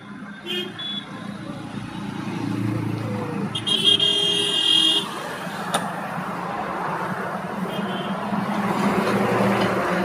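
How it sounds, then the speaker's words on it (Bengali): Road traffic stuck in a jam: a continuous rumble of engines with occasional car horn toots and one brief sharper blast. Voices talk faintly in the mix. "এই জাম তো মনে হচ্ছে রাত 9টা অবধি ছাড়বে না"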